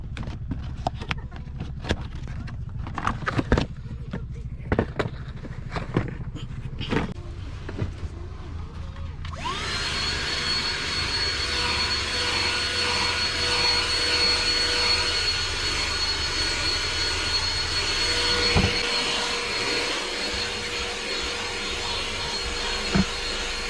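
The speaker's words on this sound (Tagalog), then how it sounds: "Mabuti na lang may dala akong blower." Inside a minivan, a handheld electric blower starts up after a stretch of clattering and thumps and then roars continuously and loudly at close range while it clears dog hair.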